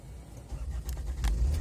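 A car engine turns over and catches, a low rumble rising about halfway through the short, quiet moment and settling into a steady idle.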